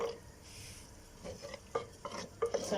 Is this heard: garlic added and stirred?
yes